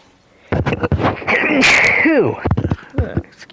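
A single sharp human sneeze rises abruptly from quiet, with short voiced sounds and breathy noise around it, close and fairly loud.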